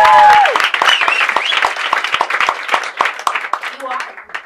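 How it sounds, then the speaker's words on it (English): A small group applauds volunteers at an event, brisk continuous clapping with voices cheering and calling over it near the start and a brief spoken word near the end. "You are brave and you deserve another applause."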